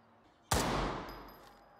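A single loud gunshot at a firing range in the video game Incursion Red River cracks sharply and then rings out in a long decaying echo.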